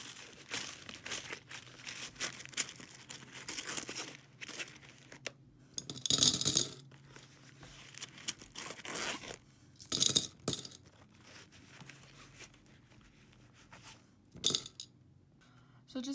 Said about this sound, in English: First, let's just empty my coins.